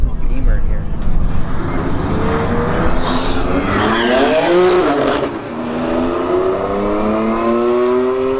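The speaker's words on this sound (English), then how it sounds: "Audi versus Beamer here" Two drag racing cars, an Audi and a BMW, launch with a loud engine roar and brief tire squeal, then rise through the gears as they pull away, with a voice talking over the start.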